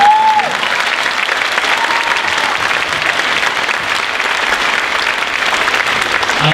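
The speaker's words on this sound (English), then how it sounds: "Let's have a round of applause." Dense, steady applause from a crowd at a middle school spring concert, loud and continuous throughout, with a faint voice briefly underneath.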